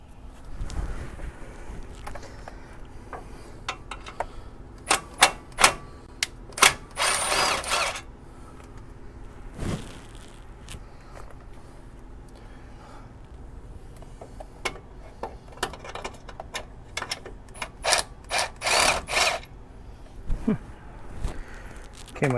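A socket ratchet works on a suspension bolt near a car's front shock mount, giving bursts of close, fast clicking in several runs with pauses between them, alongside some handling clatter.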